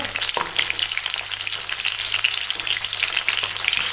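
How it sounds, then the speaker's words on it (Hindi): Chicken fries loudly in hot oil in a pan with garlic, a dense, continuous crackling sizzle that stays steady and close, with no voices. "बड़ा शोर में चाहता हुआ चिकन फ्राई हो रहा है।"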